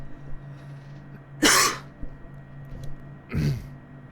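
Two coughs from one person, spaced about two seconds apart, close and fairly sharp against a quiet low hum.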